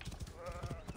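Goats bleating in the video game Assassin's Creed Origins, a quick wavering bleat over a dense, low game soundscape, faint and brief.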